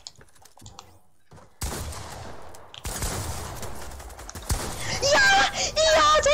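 Rapid bursts of gunfire from shooting in a video game, dense and loud after a quiet start, with someone talking over the shots.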